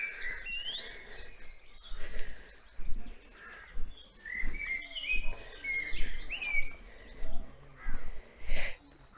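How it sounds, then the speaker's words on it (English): A blackbird sings outdoors in the Wiltshire countryside with fluting, warbling phrases and chirps at moderate distance, along with other birds and a low background rumble. "Blackbirds apparently have accents depending on where they come from."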